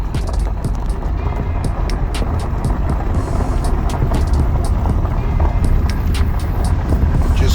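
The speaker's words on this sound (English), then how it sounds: "So now we have to drive all the way back to the other side of the park." A car rolls through a park campground in summer, with a loud, continuous rumble and crunching tire noise that stays close and steady throughout.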